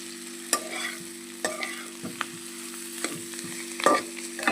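Spiced potato curry with chili powder, salt and turmeric is stirred in a pan, a quiet sizzle under repeated sharp scrapes and clacks of a spoon against the metal, close up.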